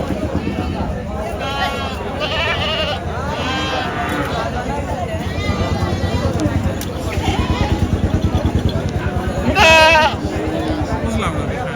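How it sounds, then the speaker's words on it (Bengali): Large goats bleat repeatedly at a busy Eid livestock market, several calls near and loud over a constant crowd babble of people talking. "হ্যাঁ, এইগুলো তো বেশ বড় বড় ছাগল"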